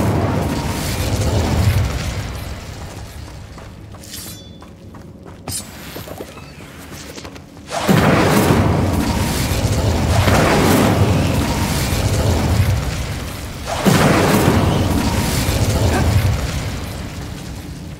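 Incendio fire spells cast in the Hogwarts Legacy video game, with loud booming fire bursts erupting twice and rumbling on, separated by a quieter stretch with small pops.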